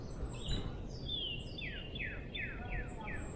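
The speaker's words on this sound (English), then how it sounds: "It was actually like this very loud gathering of birds just singing all different songs." A loud spring gathering of many birds sings all at once in a Florida state park, with a series of bright, sweeping, descending whistles repeating over a constant chorus of chirps.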